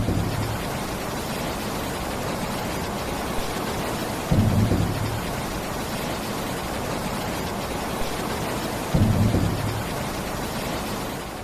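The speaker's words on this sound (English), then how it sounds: "Torrential rains flooded roads and caused rivers to burst their banks in some regions." A steady, dense hiss of heavy rain pours without pause, with low rumbling swells rising at a few points.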